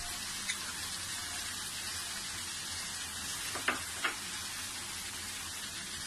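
Mutton cooks with green chilies in a pan for karahi, giving a steady, even sizzle and hiss throughout, broken by a few faint clinks or stirring taps near the middle.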